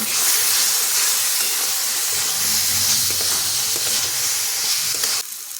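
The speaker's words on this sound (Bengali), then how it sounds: "এখন এর মধ্যে জল ঝরানো মটরগুলো দিয়ে দিচ্ছি। মটরটা দিয়ে আরও 2 মিনিট কষিয়ে নেব।" Drained green peas frying and being stirred into a cooked spice masala for matar paneer, giving a steady close sizzle and hiss that runs continuously, easing slightly at the very end.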